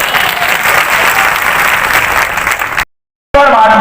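A large outdoor political rally crowd in Mandhata, Khandwa, breaks into loud sustained applause that fills the air, then cuts off abruptly before resuming.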